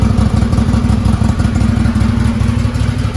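A 2020 Can-Am Maverick Sport side-by-side UTV engine idles close by, a steady throbbing exhaust rumble with a clattery mechanical edge that holds constant throughout.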